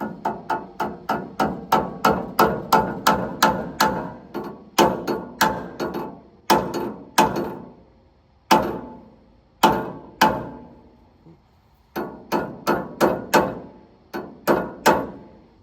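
Steel pin being hammered back into the powerhead mount of a Woodland Mills HM130MAX sawmill: a long run of sharp, ringing metallic strikes in quick rhythm, then slower spaced blows with short pauses, close and loud with no talk.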